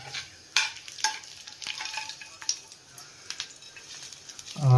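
A frying mustard seed tempering sizzles and crackles with scattered sharp pops and spoon clinks, fairly faint and close, ending in a louder bubbling hiss as it is poured into chicken mappas curry.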